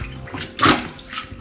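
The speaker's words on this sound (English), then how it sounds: "you're going to take your plunger and you're going to get rid of the extra water in the bowl" A plunger works in a toilet bowl during a toilet installation, giving a short watery gush and slosh at close range, alone against quiet background.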